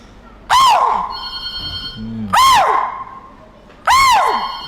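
A person mimics a spotted deer's alarm call: three sharp, high, rising-falling shrieks with pauses between, loud and close.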